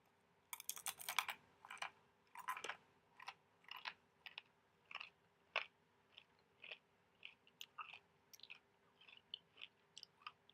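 Fried sea sparrow, seasoned with salt and eaten head first, crunches between the teeth in a steady run of sharp, close bites and chews, loudest at the start and then settling into a regular rhythm, with no talk.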